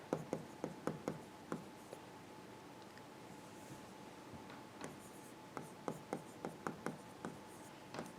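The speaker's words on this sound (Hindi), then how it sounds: "यहाँ मैं लिखता हूँ स्ट्रिंग, यहाँ लिखते हैं स्ट्रिंग" Marker or chalk strokes on a board during a Java programming lecture, a run of short scratchy taps and squeaks in irregular bursts, close and clear over a quiet room with no talking.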